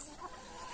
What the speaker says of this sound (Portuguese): Galinha fica assim, ó. Ciscando, bicando as coisas, né?